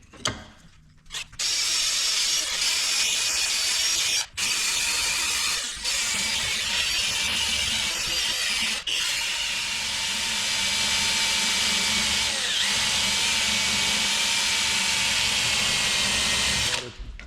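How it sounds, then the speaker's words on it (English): A wire wheel scrubs a pulley wheel from a Detroit 2-53 diesel engine, a loud continuous high whine and scraping that runs nearly the whole time, briefly cutting out a few times, with no talking. "I'm just going to clean this wheel up a little bit with my wire wheel."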